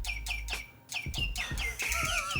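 A mechanical singing bird toy chirps in a 1980s-themed Japanese ramen shop, a series of rapid bright warbling tweets repeating in bursts over a low hum, fairly near and clear.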